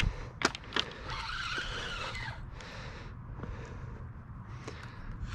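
A carp fishing reel spins out as a carp takes the line, giving a faint, wavering buzzing squeal with a few sharp clicks at the start.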